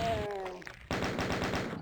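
A chaingunner enemy in a video game fires a rapid, steady burst of machine-gun shots that cuts in abruptly after a fading tonal sound, loud and continuous to the end.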